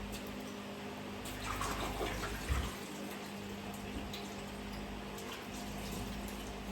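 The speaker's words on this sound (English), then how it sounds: "I'll wash my hands." Hands washed under a running tap in a pottery setting with clay: a steady, faint stream of water with light splashing and rubbing, no voices.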